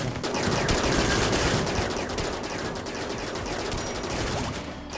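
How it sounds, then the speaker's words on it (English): Phaser cannon firing in RimWorld with the RiftWorld mod, rapid bursts of loud repeated shots blending into sustained crackling fire that stays dense through the whole stretch. "that's the phaser cannon going off"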